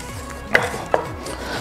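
Eggs with a little cream are stirred in a hot pan, giving two distinct scraping knocks of utensil against pan over a steady low background, close and clear with no talk.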